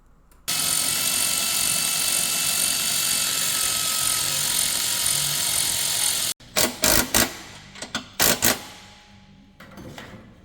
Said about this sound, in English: all we need to do now is just tighten all the screws